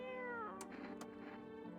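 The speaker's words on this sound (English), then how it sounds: "Hey, cat. Pet the kitty." A cat meows in the horror video game No, I'm Not Human, giving one drawn-out, fairly loud meow with a couple of short clicks over it, with no talking.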